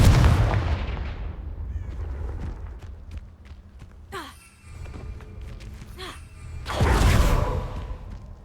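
A Confringo fire spell in the Hogwarts Legacy video game bursts with loud, close booms at the start and again near the end, with whooshing magic and scattered footstep-like effects between them.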